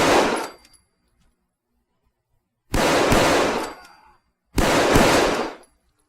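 Three separate bursts of S&W M&P 2.0 pistol gunfire from a Fallout 4 mod, loud and sharp with brief echoing tails, spaced apart by quiet gaps.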